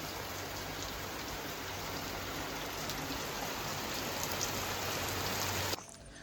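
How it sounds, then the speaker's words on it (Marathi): Steady rain falls outdoors as a dense, even hiss with scattered drops, continuous and moderately loud before stopping abruptly near the end. "पाऊस चालू झालेलो आहे"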